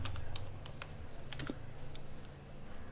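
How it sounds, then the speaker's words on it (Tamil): Someone types on a computer keyboard into a web browser, a quick run of crisp key clicks heard up close over a steady background hum. "ப்ரௌசரில் போயிட்டு டிஎன்பிடிஎஸ்ன்னு டைப் பண்ணுறேன்"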